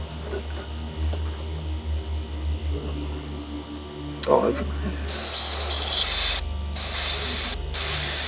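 An airbrush sprays paint while a compressor runs, a low mains-like hum beneath breathy hissing bursts that grow stronger and broader, with short on-off pulses of spray near the end.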